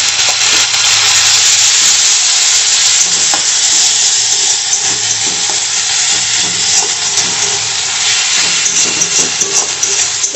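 A paste of ginger, garlic, onion and green chilli frying in hot oil, giving a loud continuous hiss and sizzle with occasional stirring scrapes, close up and without talk.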